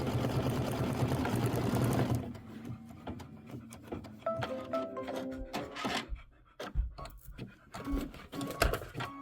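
An embroidery machine stitches a garland detail on linen for a Christmas quilt block, a steady loud hum for two seconds, then a busy run of quieter clicks, taps and short whirs.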